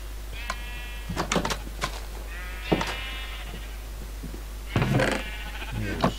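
Sheep in a pen in the Minecraft video game bleat several times with pauses between the calls. The bleats are fairly close and clear, with a few faint knocks in between.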